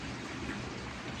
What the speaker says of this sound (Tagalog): Ulan dito sa amin.